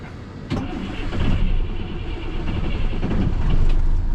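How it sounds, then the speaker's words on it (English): A vehicle engine cranks and catches, then settles into a steady, loud, close rumble that builds slightly as it runs. "I'm going to start the vehicle up"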